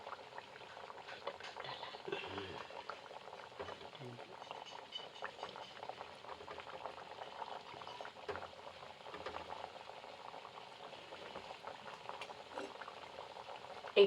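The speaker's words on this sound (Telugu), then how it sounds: "గోల్డెన్ కలర్ వచ్చే వరకు బాగా వేయించాలి." Biscuits frying in hot oil on a low flame until golden, giving a steady, continuous bubbling sizzle that runs close and even throughout, with a few faint stirring or utensil touches.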